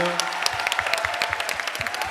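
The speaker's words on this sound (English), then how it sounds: "Big round of applause." Clapping from a luncheon audience at a designer panel, steady moderate applause with individual claps audible, mixed with voices speaking over it.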